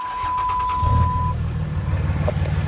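A lifted Ram 2500 Mega Cab pickup truck's engine cranks and catches, settling into a deep, loud rumbling idle up close, with a steady tone fading out partway through.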